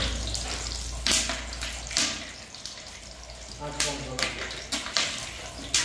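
Water is poured into a pot for chicken biryani rice with whole spices, coming as splashing, running bursts between quieter stretches. Someone talks over it.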